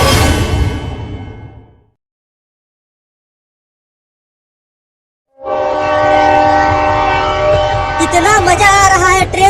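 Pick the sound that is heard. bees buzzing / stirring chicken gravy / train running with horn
train running with horn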